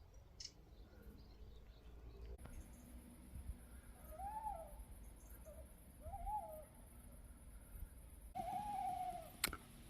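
An owl hooting at night in rural Normandy, three short, faint hoots spaced a couple of seconds apart over low background hiss and rumble.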